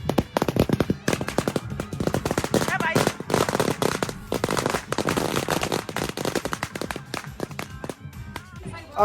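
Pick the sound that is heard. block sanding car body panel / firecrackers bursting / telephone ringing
firecrackers bursting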